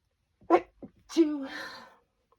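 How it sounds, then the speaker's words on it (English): A single close, sharp sneeze from hay fever with a quick breathy build-up, followed by a drawn-out voiced tail, then silence. "I'm going to sneeze"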